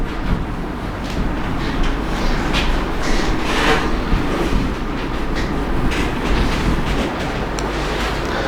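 A train rolls along rails with a continuous loud rumble and faint clatter, heard steadily up close with no voices.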